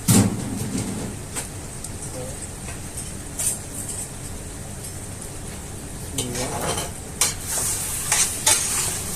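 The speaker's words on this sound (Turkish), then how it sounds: "kavuracağız bunu şimdi. Bakın güzelce kavuracağız." Lamb meat sizzles and fries steadily in a hot pan, with occasional scraping and stirring clatter from a utensil throughout.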